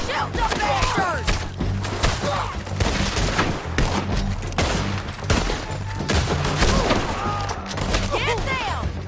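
Gunfire in Red Dead Redemption 2, a dense, loud fusillade of overlapping shots and booms firing almost without pause, with shouted voices mixed in.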